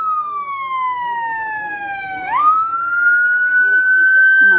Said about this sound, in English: you probably can't hear me because of the sirens of the vehicle that's in front